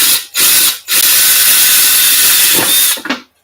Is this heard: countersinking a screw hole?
yes